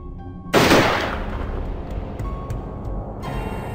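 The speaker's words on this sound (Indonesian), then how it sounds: "Tembakan serentak menyerangkan 3 peluru menembus dadanya." A firing squad of twelve fires a volley: a sudden sharp blast of gunfire cracks out at once, then echoes and decays into a lingering rumble before the sound cuts off.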